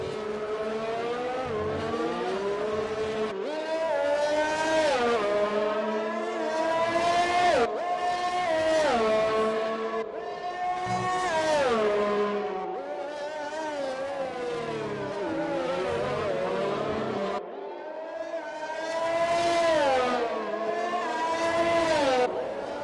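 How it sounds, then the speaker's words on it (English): Racing car engines in an esports racing video game, Azerbaijan Grand Prix, running slowly under a virtual safety car: a steady layered drone of several engines with gently rising and falling pitch, continuous and fairly loud throughout with no talk. "enjoy the wonderful sights and sounds of the virtual safety car."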